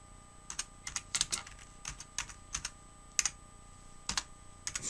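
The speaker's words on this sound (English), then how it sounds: "you guys know I'm the one-hand typer" Someone types with one hand on a computer keyboard, producing close, irregular clicks and clusters of keystrokes separated by short pauses in a quiet room.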